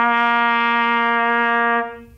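Trumpet sustaining a single low C with relaxed air, one steady, clear, close brass tone held for nearly two seconds before stopping, with no talking.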